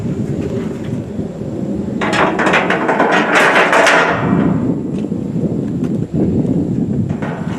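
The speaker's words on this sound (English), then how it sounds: "So I'm going to put the tray on." A metal tray is fitted onto a Pit Boss 600PS1 smoker grill, with a close flurry of rattling, clanking metal in the middle over a constant low rumble, then a few lighter knocks.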